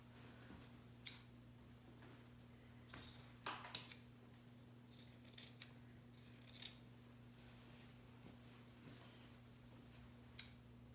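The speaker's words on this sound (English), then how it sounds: "I'm going to cut in far enough that I am not cutting my stitching off" Scissors snip through white T-shirt fabric in a quiet room, with several short, crisp cuts spread unevenly over a steady low electrical hum.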